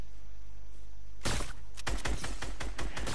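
Rapid burst of gunfire in a battle-royale style video game, beginning suddenly after quiet and continuing as dense, loud, closely spaced shots and impacts.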